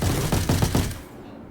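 A large-magazine gun in Star Citizen fires a rapid automatic burst of about six close, punchy shots in quick rhythm, then cuts off into quiet.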